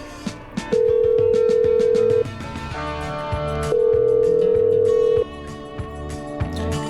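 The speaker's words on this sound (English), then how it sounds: "I'm dialing." Two long steady electronic tones, each about a second and a half, sound over busy background music and clatter in the video game Killer Frequency as a phone number is dialed.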